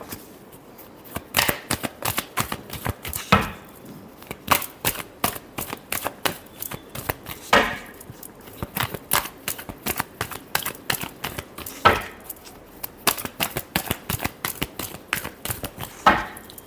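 Tarot cards being shuffled by hand: rapid, papery riffles and flicks in dense bursts with short breaks, close-up and moderately loud, no speech.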